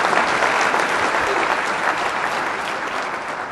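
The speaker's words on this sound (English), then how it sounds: "Brad Pittenger, big round of applause." An audience at a keynote talk claps steadily in a dense, continuous round of applause, loud at first and tapering slightly.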